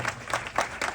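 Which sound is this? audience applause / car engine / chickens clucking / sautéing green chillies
audience applause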